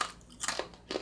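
Crunchy, crispy turkey bacon being bitten and chewed close up, with three distinct crisp crunch bursts over about a second and no talking.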